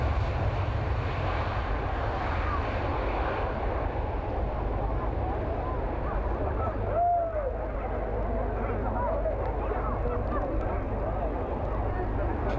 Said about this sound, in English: Farnborough 2006 will be remembered for the Airbus A380, the world's largest passenger jet.